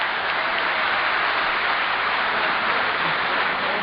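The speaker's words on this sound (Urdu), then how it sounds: "استقبال کریں، تالیوں سے نوازیں شاعر کو" At a 2011 Urdu mushaira held in Qatar, the audience applauds a poet with a dense, even wash of clapping that holds steady and continuous, slightly muffled and distant.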